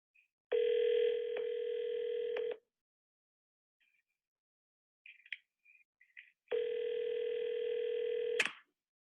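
A phone call being placed during a live sales leads session, with two long steady ringback tones separated by silence and a short cluster of keypad beeps, clean and close with no talking.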